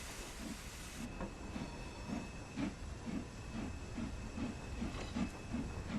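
A British Rail Jubilee class steam locomotive hauling a railtour departs Nottingham station in Train Sim World, with a steady hiss of steam and a regular rhythmic chuff, with no talk over it.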